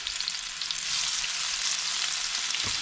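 Tomatoes and chili peppers for nasi goreng balado hit a hot pan, and a constant bright hiss and crackle swells louder partway through and keeps sizzling steadily, with a faint knock near the end.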